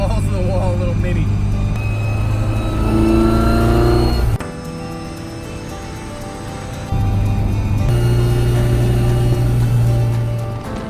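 A 1967 Mini Mk1 on the road revs hard through the gears, engine tone climbing, cutting off abruptly at a shift, then building again, loud and close with speech mixed in.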